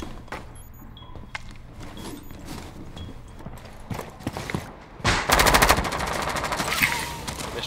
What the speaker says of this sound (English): Nice shot on Dunem